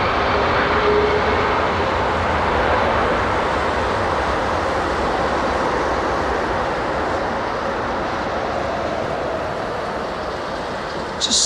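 An airliner landing on Heathrow's runway 27R with idle reverse thrust makes a loud, steady, broadband roar that holds for the whole stretch and fades slightly near the end, with no voices.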